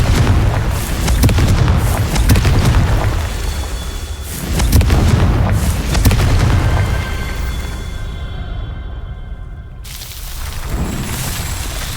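Repeated fiery Confringo spell blasts in the Hogwarts Legacy video game, loud booming explosions rolling one after another with rumbling low-end and crackling debris, continuous and dense throughout without speech.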